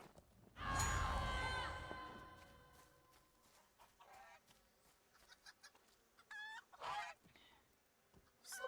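Birds in The Lord of the Rings Online game: one loud, harsh squawking call near the start, then scattered quieter clucks and chirps, with a sharper cry later on.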